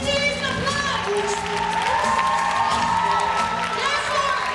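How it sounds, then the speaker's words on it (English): A large indoor audience at a Mongolian Week student grand show claps and cheers for the presenting team: sustained, dense applause mixed with shouts and whoops, loud and steady throughout. "Let us give them a sincere applause."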